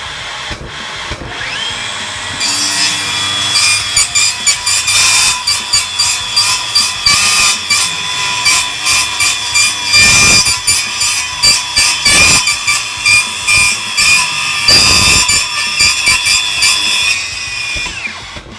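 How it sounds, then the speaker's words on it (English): A new Milwaukee saw blade cuts through a row of 30 nails and 5 screws, a loud, sustained power-tool whine broken by repeated rapid bites and metallic grinding spikes as each fastener is hit, with no talking. "we're going to cut through 30 nails and 5 spat screws with the new blade"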